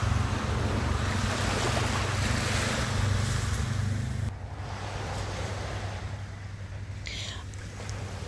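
Waves wash onto a beach on a sunny day, a steady broadband surf roar with wind, loud at first and then slightly softer, heard alone and close.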